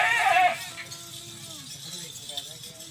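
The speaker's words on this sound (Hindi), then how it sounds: "इन्हें ये बोलते हैं मजाजन बकरी।" Majajan goats bleat with a loud, close, wavering cry at the start, then quieter bleats follow in the background while someone talks.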